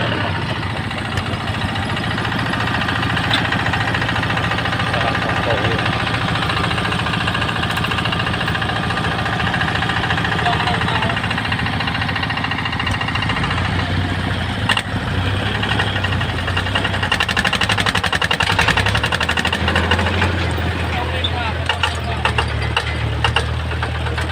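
A Kubota tractor engine runs steadily nearby, a rough, knocking diesel chug that grows louder and deeper partway through, with clattering mechanical noise on top.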